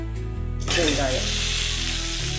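Onions sauté in a pan for Chettinad mushroom gravy, a loud, close sizzle that jumps up sharply and then holds as a steady crackling hiss.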